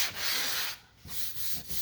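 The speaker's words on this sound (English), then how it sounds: "that right there is how you spread Bondo and sand" Bondo body filler being sanded by hand along a car body line, a steady close rasping rub in repeated strokes with a brief pause midway, no voices.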